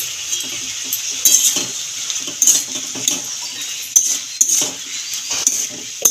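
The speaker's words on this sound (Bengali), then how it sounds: "ভালো করে মিশিয়ে দিচ্ছি" Spiced food with salt and turmeric being stirred and mixed in a pan, with repeated metal-on-metal scrapes and clinks of a utensil against the pan, close and moderately loud, with a faint sizzle underneath.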